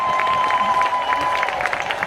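Church women's gathering audience claps and cheers in a continuous, crowded wash of applause, steady and fairly loud across the short stretch.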